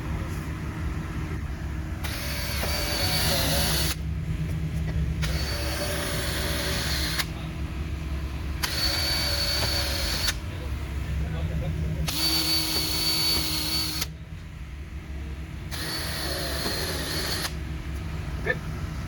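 A power drill drives screws through a fiberglass patio door panel during fixed-panel installation, five separate whirring bursts of a couple of seconds each, close and loud, separated by brief pauses over a steady background hum.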